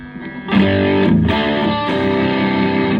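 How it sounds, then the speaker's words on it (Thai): An electric guitar runs through a Tube Screamer overdrive on a Zoom G3Xn multi-effects pedal, producing loud, sustained, distorted chords that swell in after a quieter opening and ring on continuously with a brief dip midway. "ก็ได้ไดรในระดับหนึ่งแล้วใส่ทูบสครีมเมอร์เข้าไปอีก"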